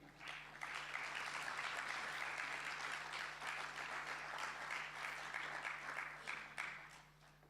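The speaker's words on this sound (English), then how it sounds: "usher them with a big round of applause as they ascend the podium" Applause at an e-learning summit as speakers ascend the podium, an audience clapping steadily at a moderate, somewhat distant level over a faint constant hum, gradually tapering toward the end.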